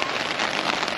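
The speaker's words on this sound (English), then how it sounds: "guess the rain gives it a moody vibe, but annoying for us to walk in" Steady rain falls on a street in Kyoto with traditional buildings and old roads, a dense, close hiss of drops striking the ground throughout, with no voices.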